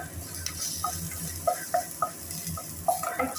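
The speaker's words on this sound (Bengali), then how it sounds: "পাঁচ কোয়া রসুন এর মধ্যে দিয়ে দিলাম এইবার দেবার পর এটাকে সুন্দর করে একটু ভেজে নিতে হবে" Five garlic cloves sizzle in hot oil in a pan, with a steady frying hiss broken by scattered spatula scrapes and clicks as they are stirred, close and fairly quiet with no talking.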